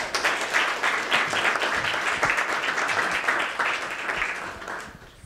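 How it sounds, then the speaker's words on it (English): Audience applause for panelists at the end of a Midwest food recovery summit breakout session, steady and dense from a roomful of people for about five seconds, then thinning and tapering off near the end. "let's give our panelists a round of applause"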